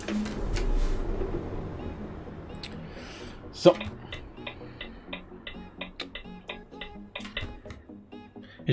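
A truck's turn signal clicks steadily in Euro Truck Simulator 2 while parking at a curb, a regular tick-tock running under low engine rumble and faint background sound.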